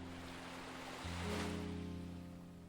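Gentle ocean waves wash steadily onto a shore as a soft, continuous rush, with a low hum running underneath and a slight swell in the middle.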